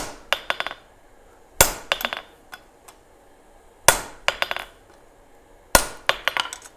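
Hot steel being hammered on a swage block to form a divot rings out in clustered strikes: a heavy blow followed by several quicker, lighter bouncing taps, repeated about four times with quiet gaps, close and loud.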